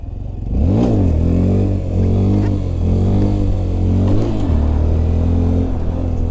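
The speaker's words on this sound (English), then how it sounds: "we're gonna pop a wheelie right here, and I'm going to bring it up to balance point and use the rear brake" A motorcycle engine revving hard and holding steady through a wheelie, a loud continuous drone with rising and falling pitch swells, close to the microphone with no talk.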